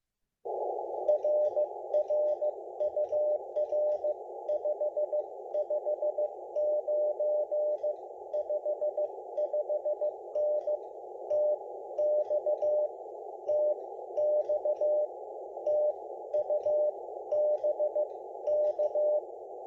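Morse code CW radio reply keyed at a slower speed, about 15 words per minute: a steady mid-pitched sidetone beeping in even dots and dashes for twenty seconds over a constant hiss, with no voices.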